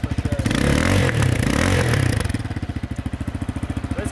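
A brand-new motorcycle with a new exhaust revs close and loud, a steady throbbing idle swelling into a sustained rev before dropping back to a rhythmic chugging putter.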